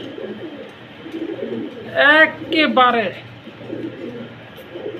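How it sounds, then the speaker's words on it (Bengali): Low, soft cooing from a pair of Saranpuri pigeons repeats in the background while someone talks nearby. "এখানে আছে একজোড়া সারানপুরি কবুতর"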